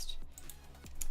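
Rapid clicking of computer keyboard keys during a typing test at a work desk, a steady run of close, crisp keystrokes with no talking.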